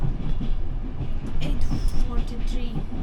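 A European train in Bulgaria rolls along the rails with a low, steady rumble and faint rhythmic rattling, heard from inside the carriage under murmuring voices.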